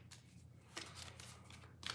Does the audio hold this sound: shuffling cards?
yes